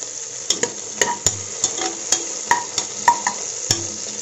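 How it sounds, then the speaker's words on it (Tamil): Onions with cinnamon, cloves, cardamom, coriander, mint and a bay leaf frying for mutton biryani, with a soft sizzle under a series of sharp, irregular stirring clacks of a spoon against the pan. "வெங்காயம் நல்லா வதங்கிடுச்சு."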